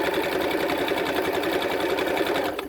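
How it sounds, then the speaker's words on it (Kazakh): A sewing machine stitching a takiya skullcap runs steadily at close range, its fast even needle rhythm continuous throughout, slowing slightly at the very end. "Жай осылай айландырып отырып, аяғына дейін тігіп шығамыз."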